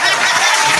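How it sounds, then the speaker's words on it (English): A group of people clapping together at a casual podcast recording, a brief burst of dense, steady applause close by. "Okay, let's clap."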